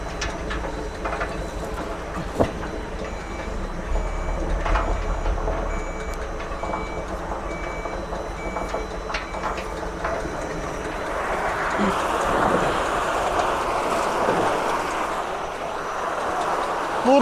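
A horizontal walnut peeling machine runs continuously, a steady mechanical rumble and rattle with faint tonal beeps and occasional knocks, growing busier and louder near the end as more walnuts churn inside.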